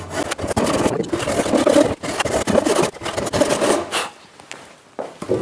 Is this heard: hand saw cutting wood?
yes